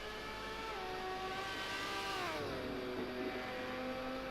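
GT1 race car screaming down the Mulsanne Straight at Le Mans in a racing video game, a high revving engine climbing through gears with a clear downshift drop in pitch midway, steady and fairly faint with no talk.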